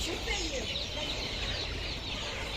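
Chicks and chickens cluck and cheep at an outdoor poultry market, a faint busy chorus of birds under steady background noise.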